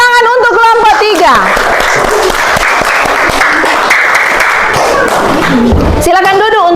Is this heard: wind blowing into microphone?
no